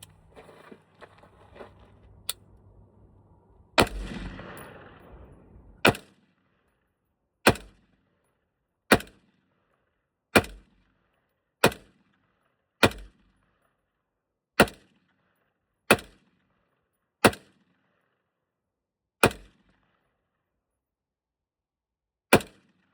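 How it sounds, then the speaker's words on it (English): A Knight's KS-3 rifle fires about a dozen sharp, loud single shots at irregular, roughly one-second intervals, each crack decaying quickly into near silence, with a burst of handling noise before the first shots. "So first shots ever with this gun and with any Knight's gun ever"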